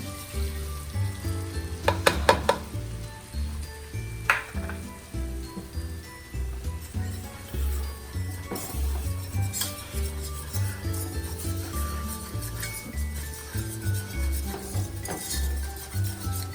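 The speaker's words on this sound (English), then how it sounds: "This takes about a couple minutes to cook the flour. But you gotta keep stirring." Flour cooking in a pan for a tuna casserole, stirred continuously, gives a steady low sizzle with scattered clinks and scrapes of a utensil against the pan, close and fairly loud with no talk.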